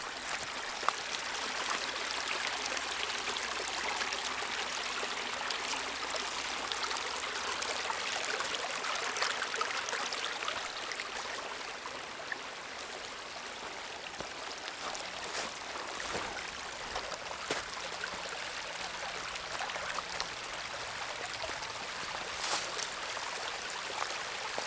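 A forest stream runs steadily past a trail water bar among damp mossy ground, a continuous close rush and trickle of water with no pauses.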